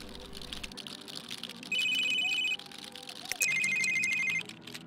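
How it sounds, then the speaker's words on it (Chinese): A telephone rings in two electronic bursts, each a bright warbling trill lasting under a second, close and clear over a faint backdrop of game music and keyboard clicks. "接电话，接电话。"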